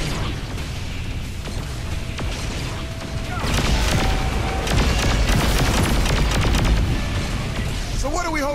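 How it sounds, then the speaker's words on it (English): Booms and bursts of gunfire from the Saints Row 4 video game, a dense, continuous barrage of explosions that swells louder midway and stays heavy to the end. "It's gonna be boom booms coming your way."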